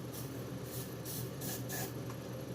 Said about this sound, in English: Spray that in there.